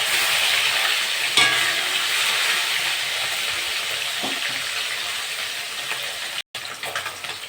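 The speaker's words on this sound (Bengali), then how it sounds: "মাছগুলো ভেজে নেব।" Fish fry in hot mustard oil in a pan, giving a loud, continuous sizzle with a few brief clatters, with no talk over it.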